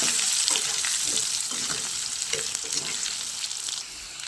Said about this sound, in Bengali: ওই একই তেলে আমি একটু আলুগুলো ভেজে নেব